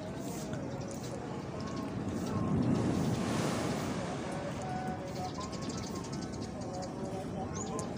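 Strong wind and high surf pound the Eretan coast in Indramayu, a steady broadband roar of wind buffeting the microphone and breaking waves that swells briefly midway, with no talk.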